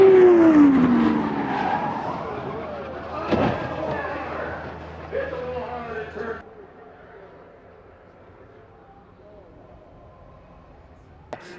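An IndyCar spins with a falling tire squeal, then slams into the wall and attenuator in two heavy impacts, leaving a fading, quieter scene.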